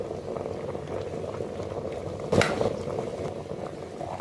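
An electric kettle at a full rolling boil, with water bubbling and seething steadily and close by. A sharp click partway through could be the automatic switch-off, and the bubbling keeps going after it.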